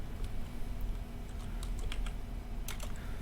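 Quiet computer keyboard typing as a simple program is entered: scattered, irregular key clicks over a low steady hum, close and soft, with no talking.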